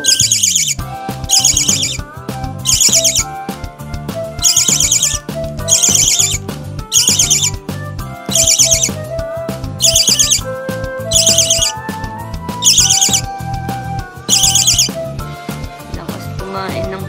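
A pet bird chirps and tweets in repeated rapid bursts while eating, close and loud, with short pauses between each burst of calls.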